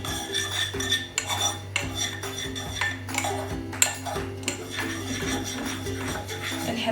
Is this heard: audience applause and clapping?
no